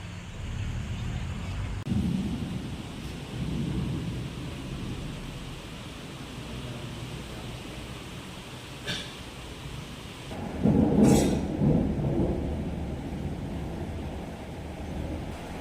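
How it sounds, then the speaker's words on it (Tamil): A heavy thunderstorm during the first rain of the year: steady hissing downpour throughout, with low rumbling thunder swelling early on and a louder crack and roll near the end. "இந்த வருஷத்தோட ஃபர்ஸ்ட் மழை பயங்கரமாக இருந்தது. ஒரே இடி மின்னலுன்னுப்பா கடவுளே."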